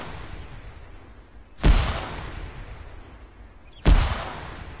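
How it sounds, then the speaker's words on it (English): Two heavy mortar impacts boom out in the Arma 3 game, about two seconds apart, each a sharp loud blast with a long rumbling tail over steady background noise. "They got a mortar."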